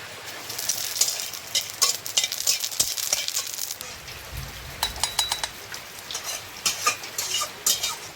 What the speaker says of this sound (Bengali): আমি তেল দিয়ে অল্প করে দুটো জিরে ভেজে নেবো তেলের উপরে।